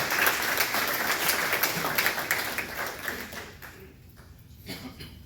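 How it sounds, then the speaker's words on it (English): An audience at a Republican committee Senate candidate forum applauds the event sponsors, a full round of clapping that holds steady, then thins and fades toward the end. "round of applause for those sponsors"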